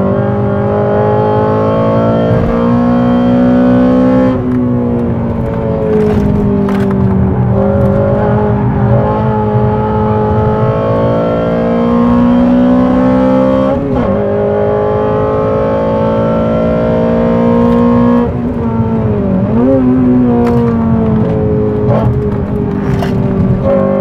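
A Honda Civic Type R with a naturally aspirated engine runs on a race track, its loud, close engine drone rising and falling with throttle and gear changes over a long stretch, with no talk.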